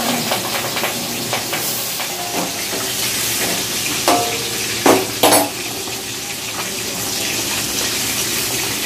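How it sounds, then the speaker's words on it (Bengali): Fish frying in oil at a large celebration meal cook-up, a steady hiss and sizzle running throughout with occasional sharp clinks of a metal utensil against the pan. "চলছে এখন মাছ ভাজা,"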